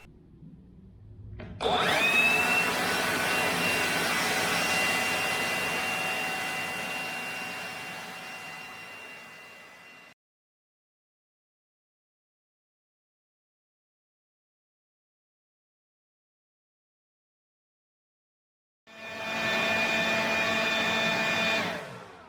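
A DeWalt 20V cordless leaf blower spins up to full blast and roars loudly and steadily up close. It shuts off into about eight seconds of silence, then starts again at full power.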